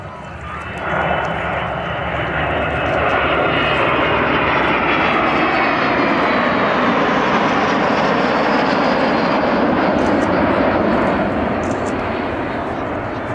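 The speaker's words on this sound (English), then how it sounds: "when you see all of that unburned fuel at the back of the Vulcan, where she is off to our left now" An Avro Vulcan jet bomber flies past at the Great Yorkshire Airshow at Church Fenton with a loud, sustained jet roar that swells and holds for many seconds, while a commentator talks over it.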